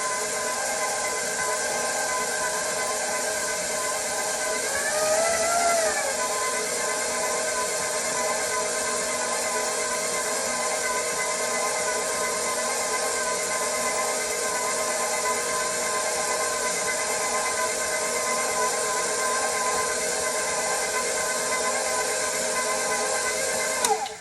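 Stand mixer working babka dough, a steady continuous whirring motor drone with a brief pitch shift near the middle, close and even throughout, with no talk.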